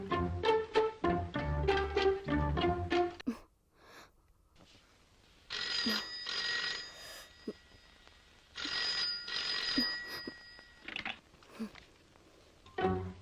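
An old-style telephone bell rings in two long bursts separated by a pause, fairly quiet, following a stretch of rhythmic music.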